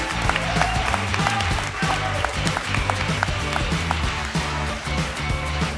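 An audience at the Future Anything 2021 grand final applauds showcase teams as they are called onstage, a dense, sustained round of clapping mixed with loud stage music throughout.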